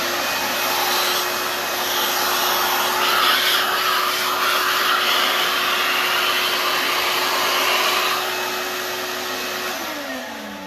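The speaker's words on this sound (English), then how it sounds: "We're going to vacuum it one more time." A vacuum cleaner runs steadily over a bass guitar fingerboard, a loud close whine with a constant tone that dips slightly just before it shuts off.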